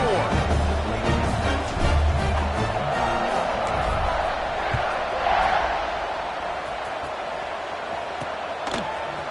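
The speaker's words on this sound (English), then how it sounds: "They're ready to kick it away, and this crowd is buzzing after that last score." Football stadium crowd buzzing after a score in a Utah game: a broad, sustained roar of many voices with scattered shouts, loud and continuous, easing slightly toward the end.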